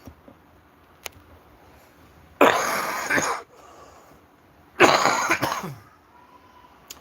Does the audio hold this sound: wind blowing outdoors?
no